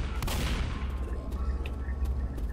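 Rapid bursts of gunfire from a Left 4 Dead zombie shooter on the No Mercy campaign, loud, dense and continuous, with sharp shots crackling over a booming low rumble.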